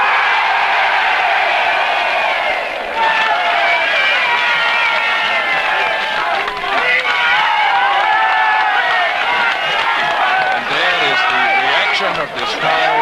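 A large crowd of villagers and new-town residents at the 1959 general election declaration for Billericay cheers and shouts in a loud, continuous roar that stays steady throughout with only slight dips.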